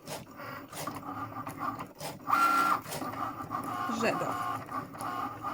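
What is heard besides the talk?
Cricut Maker machine cutting vinyl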